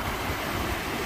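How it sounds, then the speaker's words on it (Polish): Sea waves washing in steadily along a shore, a broad continuous rush of surf with low rolling swells, close and moderately loud, with no voices. "Fale morze."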